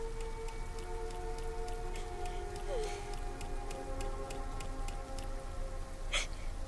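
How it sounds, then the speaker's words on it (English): Rain falling in the video game Yume Nikki, a steady soft patter with regular ticking drops and a faint tone underneath, continuous and alone. "Hey, it's raining."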